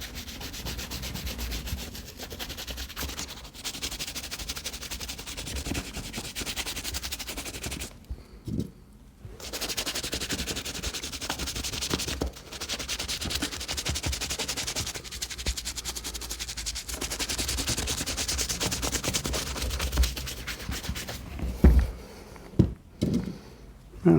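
Suede boots are brushed vigorously into the nap, giving a continuous close scratchy rubbing with short pauses and a few sharper taps toward the end.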